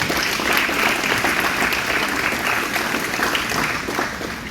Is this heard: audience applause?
yes